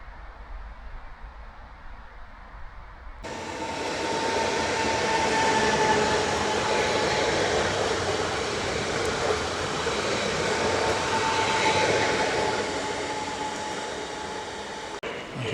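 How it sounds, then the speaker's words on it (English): Train pulling into a station in Poland, a loud broadband rumble of wheels and carriages rising after a quiet start and holding steady with a faint tonal whine, no talking. "Here's my train, dead on time."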